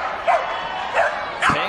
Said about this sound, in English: Pink, the Border Collie, handled by Jennifer Crank from Pickerington